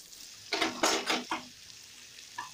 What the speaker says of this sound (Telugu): కాబట్టి మొత్తం కలిపి ఫ్రై చేస్తున్నాను